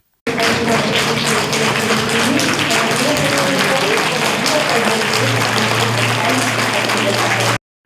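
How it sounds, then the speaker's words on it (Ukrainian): An audience at a university meeting in Kremenchuk applauds the Ukrainian author Vasyl Shkliar, sustained loud clapping throughout, with a steady low tone entering partway through. "Приймають Василя Шкляра оплесками"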